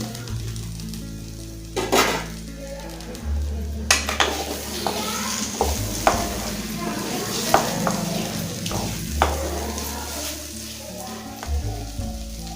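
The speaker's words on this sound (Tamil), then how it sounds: "அடுத்த சிம்மில் வச்சு இது ஒரு ரெண்டு நிமிஷம் நல்லா வதக்கி கொடுத்துடலாம்" Okra stir-fried in a pan with soaked peanuts for a Tamil side dish, giving a steady close sizzle under repeated clanks and scrapes of a spoon against the pan, with a low hum of music beneath.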